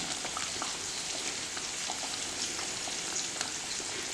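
Paneer butter masala gravy with coriander sizzles and bubbles steadily over a low flame, a dense, even crackle close up with scattered small pops and no talk.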